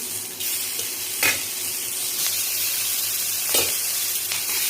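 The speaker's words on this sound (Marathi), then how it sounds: "गरम तव्यावर आपल्याला टाकून थोडंसं तेल टाकून छान लालसर अशी भाजून घ्यायची" Salted, slit green chillies roast in oil on a hot griddle with a steady close sizzle throughout and a few brief clinks of a utensil against the pan.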